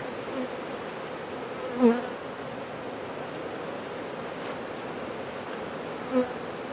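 Honey bees buzzing around a hive in an apiary, a continuous dense drone with a couple of louder passes as individual bees fly close by.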